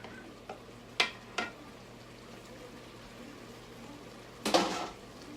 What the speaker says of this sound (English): I'm gonna dump all of that in